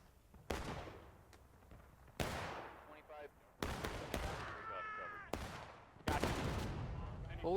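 Repeated sharp gunshot bursts in the Grand Campaign video game, about six loud volleys spaced a second or two apart over a steady battle din, with someone talking between shots.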